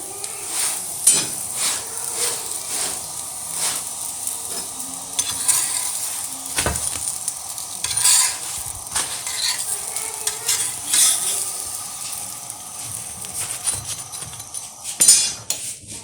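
Aloo paratha fries in oil in a home kitchen pan, a steady soft sizzle running throughout with frequent close clinks and scrapes of a utensil against the pan.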